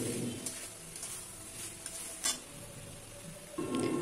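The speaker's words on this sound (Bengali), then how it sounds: "এবার ভেজে রাখা আলু ওলের টুকরোগুলো দিয়ে দিচ্ছি। মশলার সঙ্গে নেড়ে চেড়ে মিশিয়ে নিচ্ছি।" Fried potato and elephant foot yam pieces are stirred into sizzling spices in a pan, with a steady sizzle, scraping spoon strokes and a few sharp clinks against the metal, the frying swelling louder near the end.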